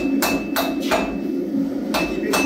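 A hammer strikes rebar in a blacksmith workshop with sharp metallic blows, five clear hits spaced unevenly at close range, each ringing briefly over a low background hum.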